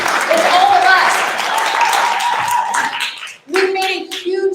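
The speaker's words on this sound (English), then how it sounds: "You should clap." Audience applause at a forest restoration fundraising event, a dense sustained clapping that fills the room, then tapers and breaks off as a voice begins speaking over the quieter remainder.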